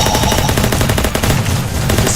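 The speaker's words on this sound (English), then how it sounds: "Oh, there's so much shooting going on above us." Rapid automatic gunfire crackles in a video game shootout, loud, dense bursts of shots rattling close by without a break.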